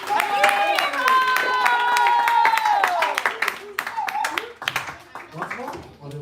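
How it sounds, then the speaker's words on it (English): A gathering of devotees gives a round of clapping, sharp claps scattered beneath sustained sung or spoken tones, growing sparser as talking continues. "we can give a round of applause"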